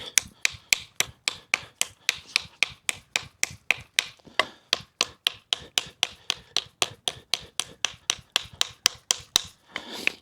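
A knife chops a small seasoned piece of almond hardwood with about thirty sharp, evenly spaced blows, close and crisp, with no talking.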